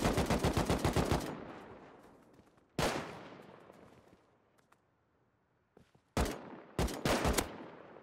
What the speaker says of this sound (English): I see him shooting at me.